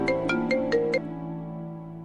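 A phone ringtone plays a short repeating melodic pattern of five tones, clear and moderately loud, then fades into a quiet hum.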